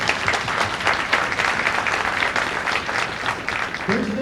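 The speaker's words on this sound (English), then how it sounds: "Let's give them a round of applause." An audience at a high school signing day event gives dense, sustained applause throughout, with many hands clapping at a loud, fairly even level.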